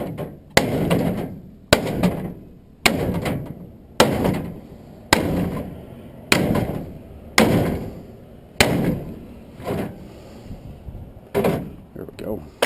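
Hammer blows on a scrap radiator, about ten sharp metallic strikes spaced roughly a second apart, each ringing briefly before fading, loud and near.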